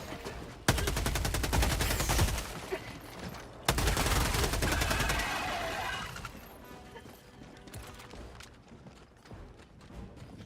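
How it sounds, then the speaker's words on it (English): Rapid automatic gunfire from the shooter game Helldivers 2, loud bursts blasting against alien enemies with a sudden restart after a short pause, then fading into scattered shots and clanking mechanical noise. "I'm actually having a lot more fun just shooting these guys than anything."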